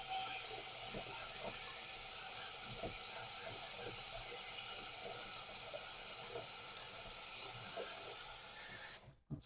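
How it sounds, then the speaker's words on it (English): Hot water flushes through the tap of a Pinter 3 brewing keg, a faint, steady hiss running evenly throughout before a short clunk right at the end. "So I'll give it a flush down with hot water"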